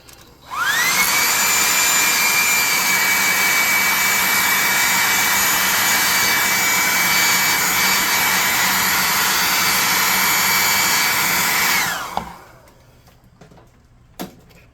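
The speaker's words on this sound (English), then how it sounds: "get the +2 hot air gun burning and dry this thing off" A hot air gun drying paint on a tabletop-game monster model whirs up to a loud, steady blowing roar, holds for about eleven seconds, then cuts off, leaving faint clicks.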